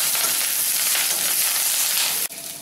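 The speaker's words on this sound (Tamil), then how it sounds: "இப்போ முருங்கைக்காயும் சேர்த்து வதக்குறேன்." Drumstick pieces and onion sauté in hot oil with mustard seeds, cumin and spices in a pan, giving a loud, steady frying sizzle that carries on evenly before dropping away abruptly near the end.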